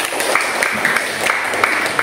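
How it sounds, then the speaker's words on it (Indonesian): A small group of students clapping for a classmate about to lead a physics lesson discussion in a classroom, light scattered claps forming brief, moderately close applause. "tepuk tangan dulu dong untuk Nova"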